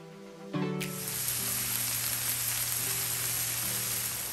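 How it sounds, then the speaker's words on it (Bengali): About a cup of chopped onions hits a hot frying pan with a sudden sizzle, then settles into a steady, even crackle of sautéing close by, with no voices. "আমি আর একটা ফ্রাই প্যানে প্রায় 1 কাপ মতো পেঁয়াজ কুচি সটে করে নিচ্ছি"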